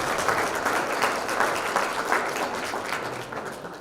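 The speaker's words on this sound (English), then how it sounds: "A round of applause for them." An audience at a ribbon-cutting ceremony breaks into sustained applause, a dense wash of many hands clapping steadily and fading slightly toward the end.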